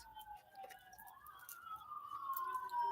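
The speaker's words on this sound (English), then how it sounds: "Can you hear the sirens?" Sirens wail in the distance, two rising and falling tones overlapping and slowly growing louder, with faint clicks and street noise beneath.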